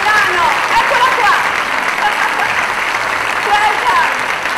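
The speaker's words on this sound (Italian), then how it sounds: "la prendiamo con un applauso caloroso" Warm applause from an audience at the Teatro Rendano in Cosenza during a Mediterranean culture award ceremony, a dense continuous clapping that stays full and steady throughout, with a few voices mixed in.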